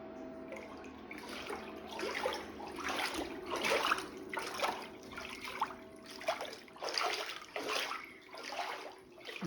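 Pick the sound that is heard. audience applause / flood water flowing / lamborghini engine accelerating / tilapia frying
flood water flowing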